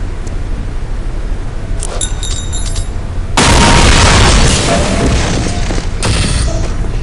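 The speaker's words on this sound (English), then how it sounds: "This high explosive grenade. Toss the grenade at the target to continue." A high explosive grenade goes off in Counter-Strike: a few faint mechanical clicks, then a sudden loud boom that rumbles on for several seconds with a second burst near the end, no talk.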